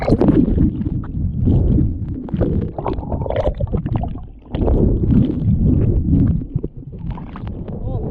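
Strong wind gusts buffet the microphone while someone paddles a canoe on a river, a loud, rumbling, continuous roar that swells and dips, with water sloshing mixed in.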